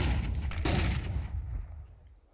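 Gunfire in a Counter-Strike 2 match: a loud burst of shots near the start that fades into a decaying tail.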